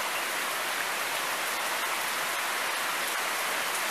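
Steady rain falls outside on a warm night in Ahualoa, a continuous, even hiss of drops close by with no talking.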